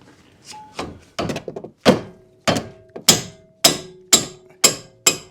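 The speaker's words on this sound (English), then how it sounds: "See if we can loosen it with a hammer and a couple of blows again" Sharp hammer blows striking a 19mm wheel nut on a Nissan Elgrand to loosen it, about ten loud metallic thunks in an uneven then steady rhythm, each ringing briefly, with no talking.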